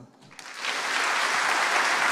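Applause for robotics researcher Rodolphe Gelin swells from quiet to a loud, steady wash of clapping within a second, filling the rest of the moment without any talk over it.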